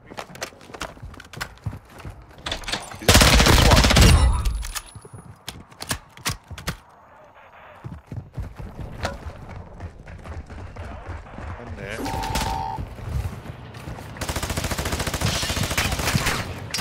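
Video game gunfire crackles in bursts of rapid shots, with one loud sustained volley early on and scattered shots after, while players talk over it.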